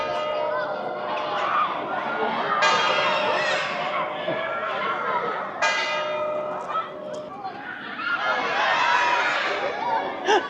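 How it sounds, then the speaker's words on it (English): Crowd with school groups cheering and chattering loudly in Poznań's old town square as the town clock's mechanical goats headbutt, with bell-like chimes ringing through the steady noise of the crowd. "and the crowd goes wild"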